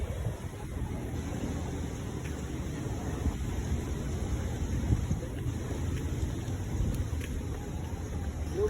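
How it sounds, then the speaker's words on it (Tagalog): Heavy, unbroken rain pours down steadily during stormy weather, a dense close wash of noise that holds at an even loudness throughout with no talk. "Walang tigil ang patok ng ulan."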